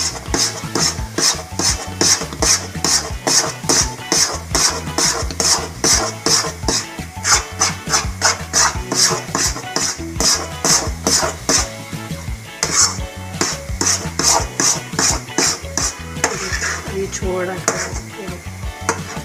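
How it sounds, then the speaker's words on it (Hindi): A spoon scrapes and clanks against a wok as semolina halwa is stirred, in steady, rhythmic strokes about twice a second, close and continuous throughout. "चम्मच चलाते रहिए जब ये बिल्कुल कढ़ाई छोड़ देगा तब हम इसको उतार लेंगे"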